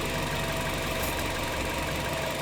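A warmed-up car engine idles steadily in park, a continuous low rumble with faint knocking vibration, close and unbroken, no voices.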